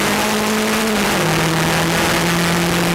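Formula Sheane race cars in a midfield battle on a circuit roar loudly and continuously, with engine pitch dropping and holding as they lap past.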